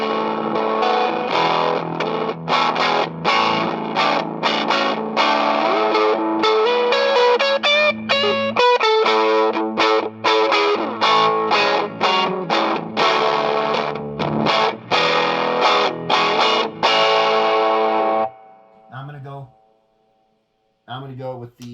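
Baritone electric guitar with the pickup switch in the up, overwound position, played as distorted strummed chords and riffs for about eighteen seconds, then a few sparse notes fading out.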